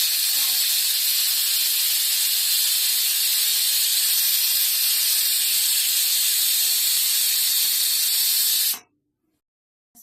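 A long, loud, continuous jet of hissing steam from a pressure cooker whistle, the third whistle while cooking dal, runs for several seconds, then stops abruptly into silence.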